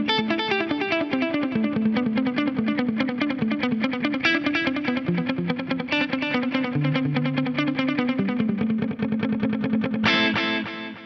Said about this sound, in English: I wanted a dotted eighth note delay on there with a little bit more feedback and a little more echo mix